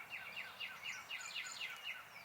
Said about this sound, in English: I know there's some loud birds around me.